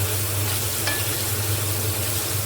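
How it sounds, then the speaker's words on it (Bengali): Small pieces of paneer fry in a pan for potol paneer dorma, giving a loud, steady sizzle with faint stirring scrapes and one brief metallic clink. "এটাকে একটু হালকা করে ভেজে নেব।"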